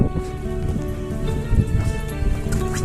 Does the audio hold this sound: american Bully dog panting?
no